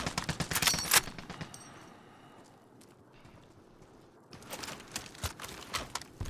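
Rapid gunfire from a shooter video game crackles in dense bursts at the start, drops away to a quieter lull in the middle, then returns as another loud flurry of shots near the end.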